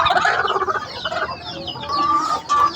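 A farmyard hen clucking steadily and close by, a busy run of repeated throaty clucks with no talk over it.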